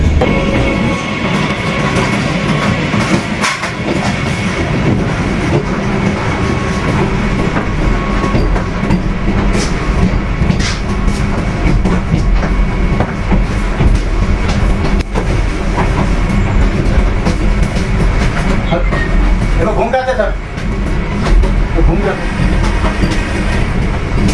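A Vande Bharat express running from NJP to Howrah, just pulled out of Malda Town, heard from inside the coach as a loud, continuous rumble with rhythmic wheel clatter and a few sharper knocks.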